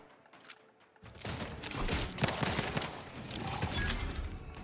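Gunfire from a weapon in the video game The Outer Worlds 2 bursts in after a quiet second, forming a loud, dense stretch of rapid shots and impacts that continues to the end.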